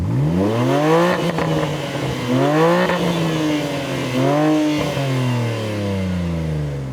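A Manhart-tuned BMW M3 or M2 engine with no rev limiter revs up hard three times in succession, pitch sweeping upward each time before dropping back, loud and close.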